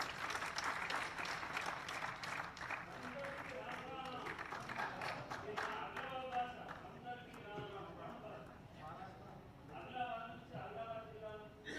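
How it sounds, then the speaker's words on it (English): Applause ripples through an audience at a golden jubilee celebration, steady clapping for the whole stretch with murmured voices and music-like tones mixed in underneath. "a big clap to this guy."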